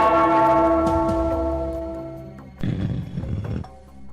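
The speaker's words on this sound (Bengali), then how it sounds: "ওই ঘন্টাটা বাজাও, বাজাও।" A bell rung in a Bengali cartoon about Gopal Bhar, a loud sustained ringing tone fading over two seconds, then a brief burst of other noisy sound.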